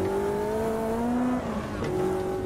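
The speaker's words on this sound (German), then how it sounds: "Ups, wir waren ein bisschen zu schnell hier beim Gas geben." Race car engine in Automobilista 2 on cold tires at Silverstone, a steady loud rising whine that drops briefly as it shifts or loses grip, then climbs again, heard close without talk.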